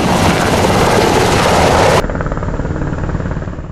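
A helicopter roars loudly up close with steady rotor chopping, the sound shifting abruptly partway through but continuing, with no voices.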